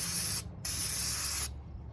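WD-40 sprayed during an axle boot rebuild: two short, close hissing bursts from the aerosol can, the first under half a second and the second nearly a second long, separated by a brief gap.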